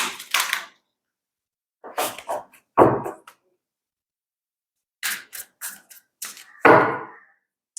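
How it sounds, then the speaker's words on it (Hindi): Tarot cards being shuffled by hand in short, crisp riffling bursts separated by silent pauses, close and fairly loud. "थोड़ा सा मैं शफल कर लेती हूँ, उसके बाद मैं देखूंगी"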